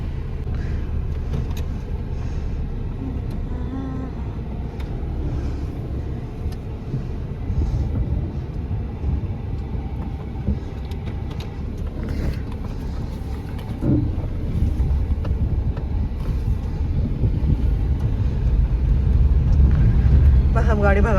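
A car drives on with the air conditioning running, a steady low engine and road rumble that builds slightly toward the end, while someone talks over it.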